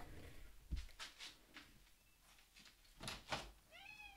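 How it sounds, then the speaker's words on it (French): A pet cat meows at a window during a thunderstorm, several short rising cries spaced across the moment, fairly near and clear, with faint rumbling and household knocks underneath and no talking. "il y a mon chat qui miaule à la fenêtre"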